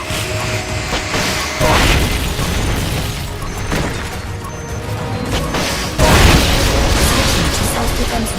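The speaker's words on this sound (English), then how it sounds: "Firing rocket launcher." Rocket launcher fire in Metal Gear Solid: Peace Walker, two heavy booming blasts a few seconds apart over a dense, continuous roar of game noise.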